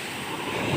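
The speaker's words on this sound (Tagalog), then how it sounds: "lakas ng alon" Strong sea waves heard from a boat out on open water, a dense, loud, steady rush and roar of surf with wind noise, continuous and close throughout the brief moment.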